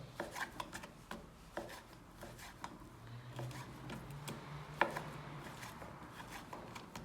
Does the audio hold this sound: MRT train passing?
no